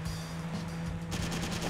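Gunfire in the Driver 3 video game, a rapid, rattling burst of shots that grows louder and denser partway through over a steady background hum.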